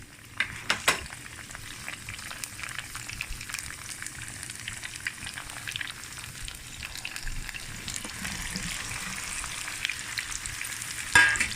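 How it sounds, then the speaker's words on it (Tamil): Broccoli and cauliflower fry in hot oil in a pan for prawn and vegetable fried rice, a steady close sizzle with occasional crackles and stirring scrapes. "எண்ணெய் சூடு ஏறிட்டுது. ஒவ்வொரு மிரக்கறிகளாக போட்டு பொரிப்பேன்"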